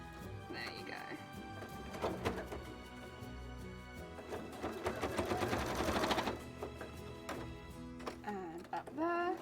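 A sewing machine top-stitching fabric while making tail frills, running in bursts of rapid needle clatter with pauses and knocks, a voice speaking over it.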